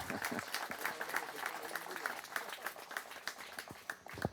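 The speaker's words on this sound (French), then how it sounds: "Vous pouvez le applaudir." Outdoor applause from a small crowd at a May 8 commemoration ceremony at a war memorial, steady brisk clapping throughout at moderate distance, fairly faint with voices mixed in.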